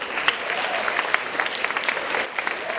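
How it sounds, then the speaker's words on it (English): A school assembly audience claps as a teacher walks in: brisk, even applause with distinct sharp claps standing out, sustained and fairly close throughout. "So if you could applaud it as each one walks in."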